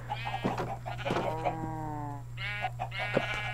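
Sheep in a video game bleat several times in a row, with wavering, nasal calls that overlap near the start and return after a short gap, over a steady low background hum.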